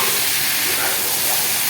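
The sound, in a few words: eggplant frying in a pan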